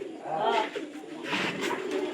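Pigeons coo softly and close by in a loft, with a few low, rolling coos overlapping across the short stretch.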